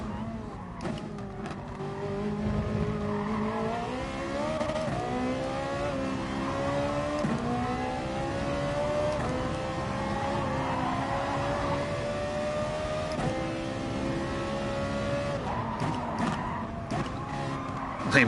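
A Ferrari race car engine in Gran Turismo Sport, droning and revving steadily with rising and falling pitch as it shifts through gears, sustained for the whole stretch at moderate loudness.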